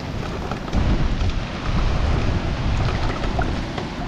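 Heavy rain pours down steadily outdoors beneath a fruit tree, with low rumbling underneath that suggests thunder; the broadband wash stays loud and continuous with no talk.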